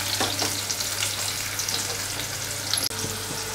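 Pointed gourd (parwal) frying in a pan toward golden brown, a close, steady crackling sizzle broken by soft stirring scrapes and a sharp tap of a utensil near the end.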